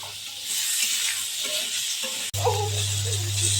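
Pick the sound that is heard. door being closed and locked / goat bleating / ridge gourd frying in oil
ridge gourd frying in oil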